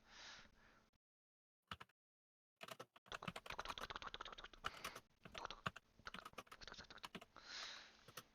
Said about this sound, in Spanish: ¿Cómo se escucha el teclado